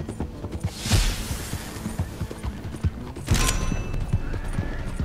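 Horses in Red Dead Online, one a Norfolk Roadster, clop over a bridge with steady hooves, and two loud whinnies cut through the hoofbeats.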